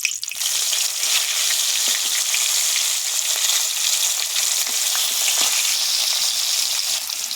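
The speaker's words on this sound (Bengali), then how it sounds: "গরম হয়ে গেছে, এবার আমি মাছ দেব।" Katla fish pieces fry in hot oil in a kadai wok, making a steady, loud, unbroken sizzle from start to finish with no voices.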